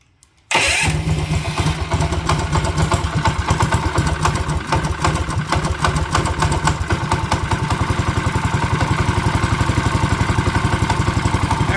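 After a moment of silence, a 212cc small engine on a John Deere 110 lawn tractor catches abruptly and settles into a loud, steady, rapidly pulsing idle that runs on evenly to the end.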